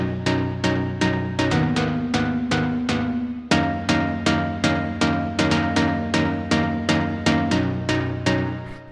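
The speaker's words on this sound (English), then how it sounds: "the first sound that we have here are these pluck chords" Bright synth pluck chords strike in a steady rhythmic pattern, each one decaying quickly over a sustained low bass, loud and clear with no voices.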